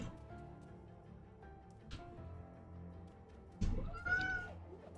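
A cat's short meow rises near the end over a low, steady bed of video game music and effects from Ori and the Blind Forest.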